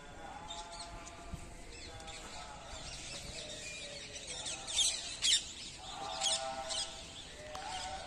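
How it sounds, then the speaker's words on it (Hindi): Birds chirp and squawk in scattered bursts around an ashram in Vrindavan, with a couple of louder calls standing out against steady background noise. "चिड़ियों का चहचहाना हर ओर सुनाई पड़ता है।"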